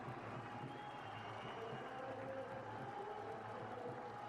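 Home crowd at a Sri Lankan Test cricket ground cheering Jayawardene's 350, a steady distant wash of applause and crowd noise throughout.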